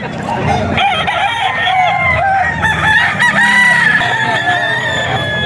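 Gamefowl roosters crowing and clucking at a busy auction market, several birds overlapping close by while people talk in the background.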